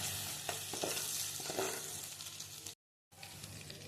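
Prawn curry ingredients fry in a pan with ginger garlic paste, a close, steady sizzle with scraping stirs, cut by a brief silent gap before the frying resumes.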